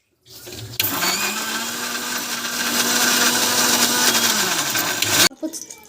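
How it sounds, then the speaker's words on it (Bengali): A blender purees fire-roasted mango with black salt, roasted cumin powder, sugar and salt into pulp. It gives a loud, close, steady whir for about four and a half seconds, then cuts off abruptly. "পাল্প বানিয়ে নেব পেস্ট করে নেব"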